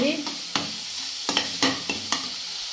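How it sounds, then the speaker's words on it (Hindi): A splash of water added to tomatoes cooking in a pan with roasted potatoes and eggplant, quiet sizzling punctuated by a series of clicking spoon stirs at irregular intervals. "थोड़ा सा ही पानी डालना है, बहुत ज़्यादा नहीं, सिर्फ टमाटर पकने के लिए"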